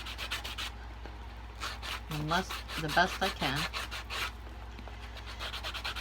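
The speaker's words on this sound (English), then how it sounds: "I take my coarse side and I just" Coarse side of a sanding sponge rubbing over a resin geode artwork, repeated close rasping strokes that continue under a brief stretch of someone talking.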